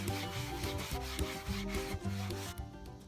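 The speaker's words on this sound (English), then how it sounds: "had the kids help with sanding the rough areas and the edges and corners off of the swing seat" Hand sanding along the rough edges and corners of a wooden tree swing seat, a quiet, close scraping rub in short repeated back-and-forth strokes with no voices.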